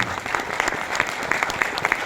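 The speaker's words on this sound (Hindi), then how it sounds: "एक जोरदार तालियां होनी चाहिए ऐसी संस्था में" An audience bursts into loud, brisk applause, many hands clapping close and dense with sharp individual claps standing out in a short, steady burst.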